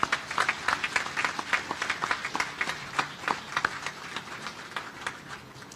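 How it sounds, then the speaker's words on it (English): Crowd applause at a ship christening ceremony for the USNS Navajo: a brisk, sustained burst of many hands clapping, dense and fairly close, tapering slightly toward the end. "Round of applause, please."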